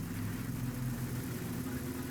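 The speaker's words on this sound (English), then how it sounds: "That motorcycle's just loud." A steady, loud motorcycle engine rumble drones in the background throughout as it passes, even and unbroken.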